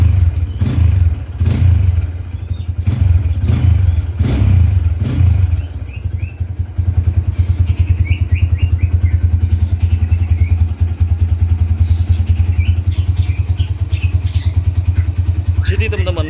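A 2013 motorcycle engine is revved in several sharp bursts, then settles into a steady, throbbing idle close by while a person talks over it.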